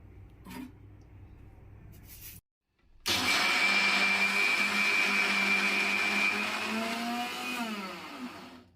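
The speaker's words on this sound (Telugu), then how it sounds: "మిక్సీ వేయడానికి జార్లో వేస్తున్నానండి" A mixer grinder starts up after a brief pause and runs loudly with a steady whirring grind as it grinds soaked black-eyed peas with little water, pitch shifting slightly near the end.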